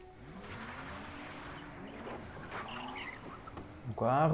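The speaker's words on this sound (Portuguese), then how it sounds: "Um carro." A car's tires skid with rising squeals near the end in Uncharted 4, over a revving engine and game sounds beneath a voice.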